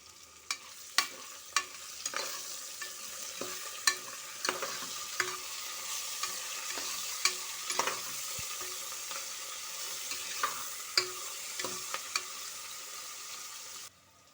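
Biryani ingredients with curry leaves and coriander frying in hot oil until golden brown, giving a steady close sizzle broken by repeated sharp spatula scrapes and clinks against the pan.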